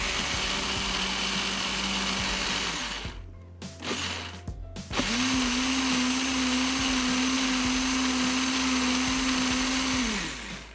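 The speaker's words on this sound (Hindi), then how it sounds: "मिक्सर में मिक्स हो रही हैं खूब अच्छी तरीके से" A loud electric mixer grinder blending gravy ingredients whirs steadily, pauses briefly, then runs again at a high, constant pitch until it winds down.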